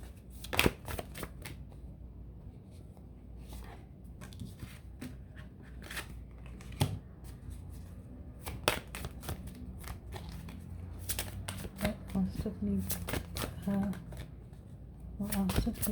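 Tarot cards being shuffled over a long stretch, with repeated sharp riffling bursts and soft sliding between them, some louder flurries near the end, and faint talk or low background noise underneath.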